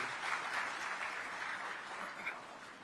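Applause from the audience at a Chief Minister's excellence awards ceremony, a soft, continuous blur of many hands clapping heard from a distance, steady throughout with little variation.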